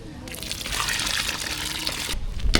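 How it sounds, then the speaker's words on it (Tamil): Tamarind water poured into a pot of sambar whose vegetables are three-quarters cooked, a steady close gushing splash that runs for about two seconds and then stops. "லாஸ்ட்டாக புளி தண்ணி சேர்த்துக்கலாம்"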